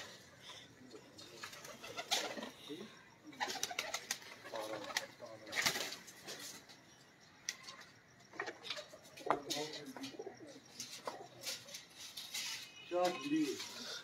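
Pigeons cooing and fluttering wings in a faint, scattered series of calls and flaps, with background chatter and outdoor noise throughout.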